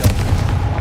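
The Confringo blasting curse in Hogwarts Legacy goes off as a short, loud, close booming burst with a rumbling low body, lasting under a second.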